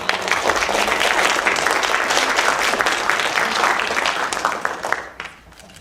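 A warm round of applause breaks out at a youth empowerment foundation's annual awards ceremony, dense sustained clapping from a crowd that holds strong for several seconds before tapering off near the end.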